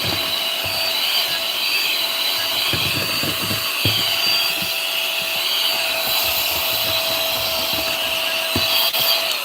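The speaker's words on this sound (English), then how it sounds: "I need to vacuum up some of this" A vacuum cleaner runs steadily close by, sucking up glitter with a constant loud whine and occasional rattling bumps as the nozzle moves.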